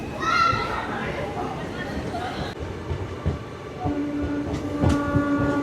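Continuous rumble of the 17418 Shirdi to Tirupati weekly express leaving Kopargaon, with rhythmic rail clatter, a tonal whine rising in places, and voices chattering faintly nearby.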